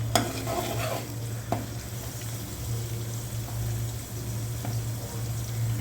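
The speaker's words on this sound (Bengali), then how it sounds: "ভেজে নেওয়া হচ্ছে" Chicken pieces frying in a pan for a home-style Bengali white chicken bhuna, a steady close sizzle with intermittent stirring scrapes and a low hum running underneath, no voices.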